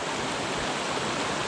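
A small stream flowing with a constant, dense rush of water, close and even throughout with no voices.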